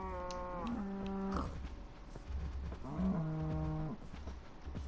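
Cows moo in the Minecraft video game, two long drawn-out moos a couple of seconds apart, clear and close over a low background hum.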